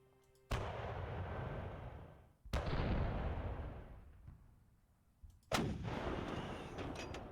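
Artillery guns fire in the wartime strategy game Panzer Campaigns Japan '45, three heavy booming shots about two to three seconds apart, each followed by a long rumbling decay, loud and close with no speech.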